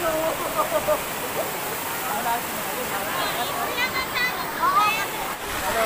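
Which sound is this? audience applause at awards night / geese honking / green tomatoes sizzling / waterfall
waterfall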